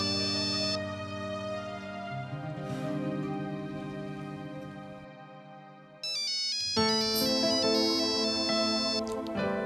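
A melodic phone ringtone plays in a repeating electronic tune, changing to a brighter, busier pattern partway through, with no voices over it.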